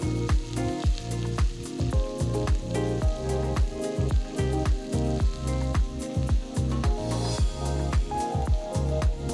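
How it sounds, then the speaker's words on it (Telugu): Three large sliced onions fry in hot mustard oil with two bay leaves and a teaspoon of cumin for a jackfruit curry, giving a close, bubbly sizzle with a pulsing, wet, squishy texture throughout. "నూనె వేడైన తర్వాత రెండు బిర్యానీ ఆకులు ఒక టీ స్పూన్ జీలకర్ర పొడవగా తరిగిన మూడు పెద్ద ఉల్లిపాయల ముక్కలు వేసి ఐదు నిమిషాలు ఉల్లిపాయల్ని బాగా వేయించుకోవాలి"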